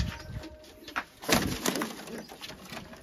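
Soft pigeon coos rising a few times over a low, rustling background, fairly close and unaccompanied by speech.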